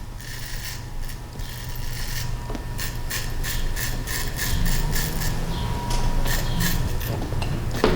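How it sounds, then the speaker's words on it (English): An electric hair clipper cuts a curly fade, buzzing steadily up close with a rapid rattling, clicking texture as it passes through the hair in repeated strokes. "As I'm going up with the clipper"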